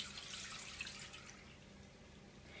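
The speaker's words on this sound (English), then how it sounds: "So you just use a strainer, any kind that you've got, and then pour it straight in." Coconut water poured through a strainer, a soft continuous trickle and splash of liquid heard close up and fairly faint, steady for a couple of seconds with no voices.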